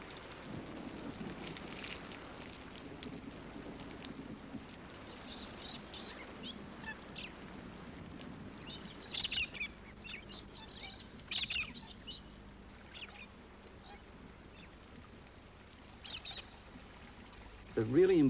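Steady rain falls in an outdoor wild setting while birds chirp and call in scattered bursts above the hiss, with a few louder flutters and calls toward the end.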